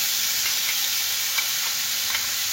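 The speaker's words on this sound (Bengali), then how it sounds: "আদা জিরে রসুন কাঁচা লঙ্কা যে পেস্টটা দিয়ে দেওয়া হচ্ছে" A paste of ginger, cumin, garlic and green chili fries in a pan with a steady bright sizzle and faint occasional stirring ticks, close and continuous with no speech.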